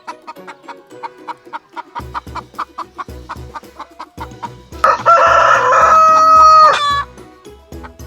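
Farm chickens cluck in a steady series of short, close calls, then a rooster lets out one loud, drawn-out crow partway through before the clucking resumes.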